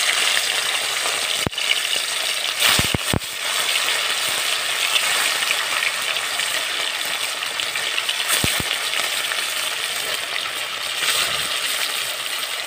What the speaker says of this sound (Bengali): আমি সর্ষের তেল দিয়ে দিলাম মাছটা ভাজার জন্য